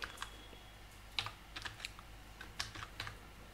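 Quiet typing of code on a computer keyboard: irregular light key clicks, some in quick pairs, fairly close and with no talking.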